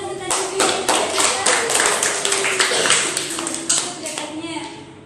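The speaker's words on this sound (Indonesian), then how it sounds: "Beri tepuk tangan untuk" A group of schoolchildren in a classroom clap together in a steady burst of claps that runs about five seconds over a low murmur of voices.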